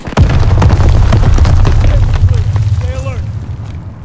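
A grenade explodes in the World War II shooter Call of Duty WW2, a loud booming blast that rumbles on for several seconds before fading into battlefield noise, with voices speaking over it.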